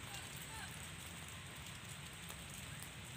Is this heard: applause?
no